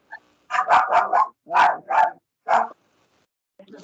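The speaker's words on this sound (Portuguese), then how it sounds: "Agora o cachorro começou a latir, não dá para falar." A dog lets out a quick series of sharp, loud barks close by, several in a rapid burst, then spaced single barks after short pauses.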